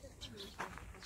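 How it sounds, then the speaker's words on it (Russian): A bird calls faintly in a home vegetable garden. The soft, low cooing notes sit under quiet background noise for about a second. "Птичка поет."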